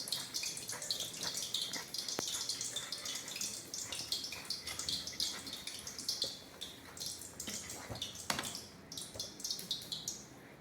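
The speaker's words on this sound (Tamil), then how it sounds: "அதில் கொஞ்சம் கொஞ்சமாக சூடான நெய்யை விட்டு கிண்டுவோம்" Hot ghee poured bit by bit into cooking gram flour and stirred for traditional Mysore pak, giving a continuous bubbling, frothy sizzle with scattered scraping clicks, close and steady, with no voice.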